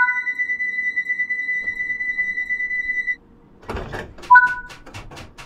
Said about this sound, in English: Set the doors to locked.